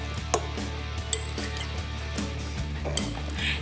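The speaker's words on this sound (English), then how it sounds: "Now we're just going to stir it all together." Vegetables being stirred into a couscous salad in a bowl: soft, irregular clinks and scrapes of a utensil against the dish, a few sharper taps, close and fairly quiet over a low steady hum.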